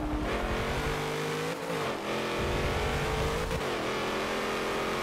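A Nissan GT-R fitted with a diesel engine roars continuously in a racing game, holding a steady high drone with two brief dips as it shifts, loud and close with no voices.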